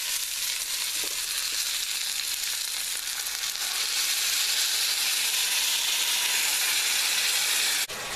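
Devilled kidneys sizzle and fry in sauce in a hot pan, a steady close bubbling hiss throughout with no talking.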